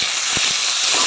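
Vegetables drop into hot oil in a pan after five-spice, dried chilies and bay leaf, giving a loud, steady, close sizzle with a few brief thumps.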